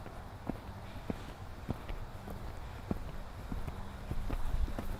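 Horse hooves clip-clopping at a slow walk during a riding lesson, a steady uneven rhythm of soft thuds close by over faint background noise.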